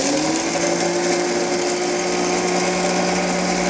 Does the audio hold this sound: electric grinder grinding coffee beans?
yes